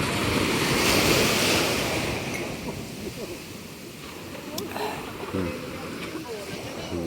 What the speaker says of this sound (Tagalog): laking alon, laking tubig